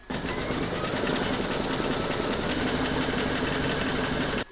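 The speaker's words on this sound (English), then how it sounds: "you're going to stitch round number 11" An embroidery sewing machine stitches a fabric mug rug, giving a steady, continuous mechanical whir with rapid needle rhythm from start to finish, close and alone.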